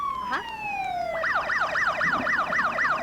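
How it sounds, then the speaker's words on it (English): An ambulance siren wails at a 1983 Bavarian Day festival parade, first a long falling tone, then a rapid rising-and-falling yelp that carries on loud and close. "And another ambulance."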